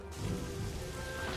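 Steady rain in the Fable Anniversary video game patters and hisses across a surface, a continuous wash of sound with a low rumble of thunder underneath and no voices.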